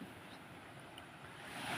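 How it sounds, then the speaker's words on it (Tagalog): Strong wind blows across open water on a boat at sea, a steady close rushing roar with no speech. "nagkaanam-anam hinuon og kakusog sa hangin"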